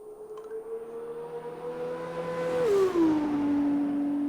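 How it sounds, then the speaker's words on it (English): Formula 2 race car engine in a racing video game at the Bahrain circuit, a steady high-revving whine that drops pitch sharply as the car brakes and downshifts, then holds a lower tone, loud and close with no talk. "these F2 cars never get tired of it. I never get tired of listening to them."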